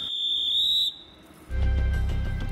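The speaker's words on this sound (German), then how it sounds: "Der Pfiff richtet sich übrigens an die Fahrgäste und signalisiert, jetzt geht's gleich los." A Deutsche Bahn conductor's departure whistle sounds once on a platform, a single sharp, steady shrill tone lasting about a second, followed by a pause and then louder station rumble as the train prepares to leave.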